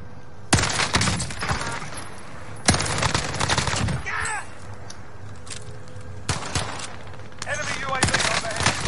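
Bursts of automatic gunfire from an enemy player in the video game Warzone crack out in several sharp volleys, with quieter game sounds and distant shots between them.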